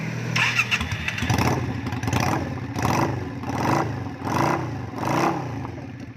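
A Yamaha Drag Star 400 bobber motorcycle engine fires up close by and is revved repeatedly, with about five rising throttle blips over a rough, clattering idle.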